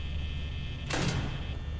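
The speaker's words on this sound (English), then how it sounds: "Okay, time to close the door." A door slides or swings shut in a horror video game, one short whooshing thud near the middle, heard alone against a steady low hum.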